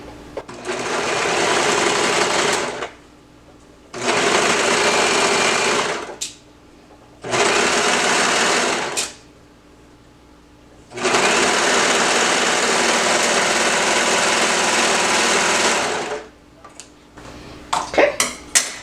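A serger stitches a seam through romper fabric in four loud, close whirring runs, separated by short pauses, the last run the longest.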